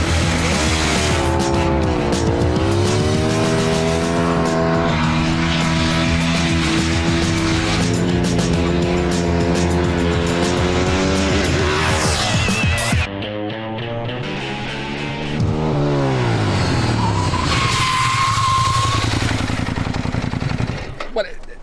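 A Ducati 1098 motorcycle races a Lamborghini Gallardo Superleggera, engines loudly revving through rising and falling gear changes with tyre squeal, then a lone engine drones on after a sudden drop, with talk in the background.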